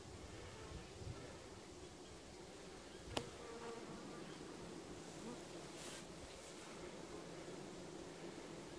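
Honey bees swarm around beehives during robbing activity, a steady dense buzzing drone that fills the whole stretch, with one sharp click partway through and no talk.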